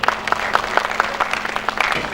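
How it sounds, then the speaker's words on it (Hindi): An audience at a spiritual fair applauds to welcome a revered swami, a sparse, fairly loud patter of individual claps in a steady rhythm over a faint hum. "ऐसे सनातन धर्म के महान ऋषि स्वरूप स्वामी जी के लिए तालियों से आप सहयोग करें।"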